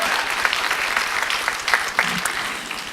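An awards ceremony audience claps warmly, a sustained round of applause with sharp individual claps and slight swells in loudness, no speech over it.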